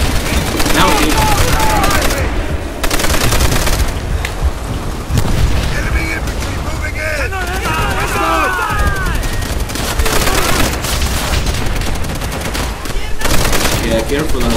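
Sustained rapid machine gun fire from a mounted MG in Call of Duty: World at War co-op, loud and continuous across the battle with scattered shots, chatter of rounds and explosions, voices of players talking over the din.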